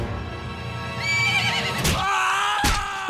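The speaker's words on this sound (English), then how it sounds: "Horse, good boy." A cartoon horse gives a loud, drawn-out whinny with wavering pitch, followed by a couple of sharp hoof stomps.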